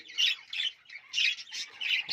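Budgie chicks in a nest box squawk close by in about six harsh, raspy bursts in quick succession, with short gaps between them.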